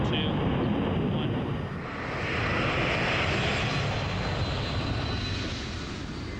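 A C-5 military transport's turbofan engines roar at full takeoff thrust, a loud, continuous broadband rumble that swells slightly midway and holds steady throughout.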